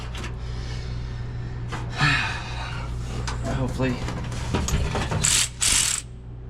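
Hand ratchet clicking as a part is cinched up on a 1941 Chevy, a run of close, steady clicks with bursts of effort and a couple of sharp louder moments near the end, with a voice and breathing heard in the workshop.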